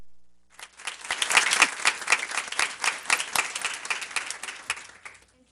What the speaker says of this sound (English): Let's give Casey a round of applause